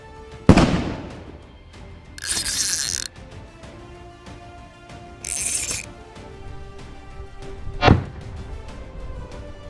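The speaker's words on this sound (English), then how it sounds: "let's go ahead, put this back up and shoot it with 308" A .308 rifle fires two loud, sharp shots several seconds apart at a layered level IIIA body armor plate, each a single crack with a short ringing tail. Bursts of hissing noise and faint handling sounds fill the gaps between the shots.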